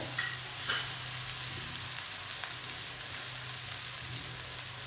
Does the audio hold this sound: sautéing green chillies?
yes